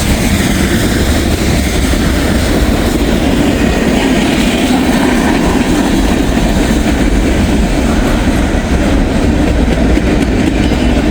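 Coal train rolling past during a meet on a cold sunny day, a loud, continuous close rumble of wagons with steady clickety-clack and engine drone throughout, no talk.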